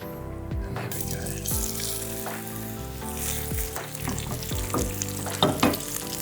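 Fish fillet frying in a hot pan gives a steady, close sizzle with crackling bursts and a few clinks of stirring or a utensil against the pan, with no one speaking.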